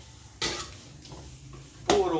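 A spoon stirs native chicken cooking in coconut milk in a pot, two clear scraping clanks against the pot over a quiet background, with a voice speaking briefly.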